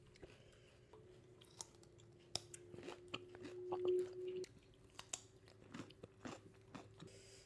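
Someone bites into and chews cucumber rujak dressed with Royco seasoning, with several crisp crunches up close and soft wet mastication between them, while a quiet hum runs underneath.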